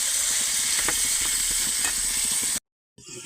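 Spices fry in a hot pan with a loud, steady sizzle while a utensil stirs them in soft scraping strokes, then the sound cuts off briefly and returns.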